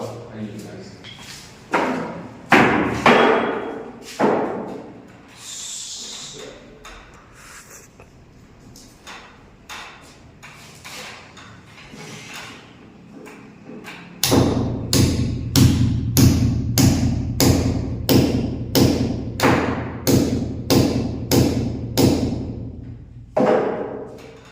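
A hammer repeatedly strikes a chisel to drive in a chemical fastener on a construction job, sharp evenly spaced metallic blows in a fast steady series, close and loud, with someone talking in Hindi before the strikes begin.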